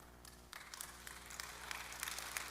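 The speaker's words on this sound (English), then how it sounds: "I wasn't asking for you to clap" Scattered applause from a church congregation during a sermon starts up and swells into steady clapping, faint and somewhat distant.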